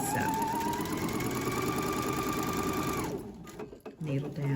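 A sewing machine runs quickly to sew elastic onto bralette fabric, a close, rapid needle chatter that continues for about three seconds and then stops, with a voice speaking over it.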